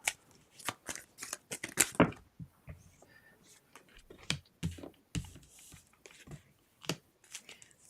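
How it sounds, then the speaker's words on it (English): Tarot cards riffle and snap in quick bursts of crisp slaps and fluttering flicks at close range, with short pauses between shuffles and a voice speaking briefly. "I promise you I shuffled these."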